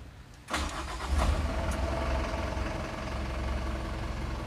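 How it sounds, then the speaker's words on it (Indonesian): A 2023 Mitsubishi Canter FE 71 truck engine cranks and catches after a quiet half-second, then settles into a steady, smooth idle, loud and close with no talking. "Coba kita nyalakan mesinnya."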